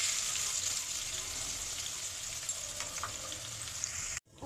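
Finely chopped onion with two cardamom pods sizzles in hot oil, a soft, steady hiss that continues close and unbroken until it cuts off abruptly near the end.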